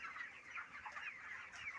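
Chickens on a poultry farm cluck and murmur continuously in a faint, busy flock chorus, with no voices.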